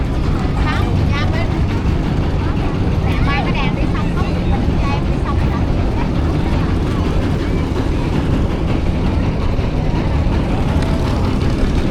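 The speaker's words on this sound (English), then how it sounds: "These boats are all waiting to pick up passengers." Steady, loud outdoor wash of engine rumble and water noise from boats waiting for passengers at night in Hoi An, with people talking throughout.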